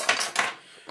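Fork and knife scrape and clink against a plate while cooked white food is cut one-handed, two bright close clatters followed by softer scraping, with no talk.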